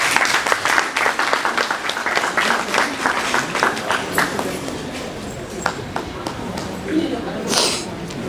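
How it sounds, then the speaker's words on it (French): An audience at a cultural-sector panel on recognition bursts into applause, quick scattered claps rising and thinning over several seconds, fairly close, with some murmuring voices mixed in. "Des applaudissements s'il vous plaît."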